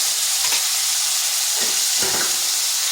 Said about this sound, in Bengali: এগুলোকে বেশ কিছুক্ষণ সময় ধরে ভেজে নিতে হবে।